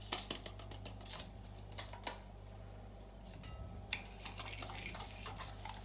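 Whisking an egg with sugar and vanilla sugar in a bowl, quiet, quick clinking strokes in uneven bursts over a steady low hum, with no talking.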